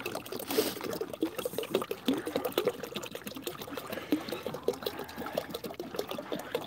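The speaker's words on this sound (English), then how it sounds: "A little bit of vitamin infused water for the birds." Vitamin-infused water is poured for birds, making a faint, continuous trickling and splashing with no speech.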